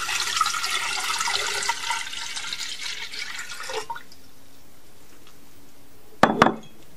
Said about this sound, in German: Man muss nur ungefähr 1 Liter Wasser einfüllen in die Sojabella.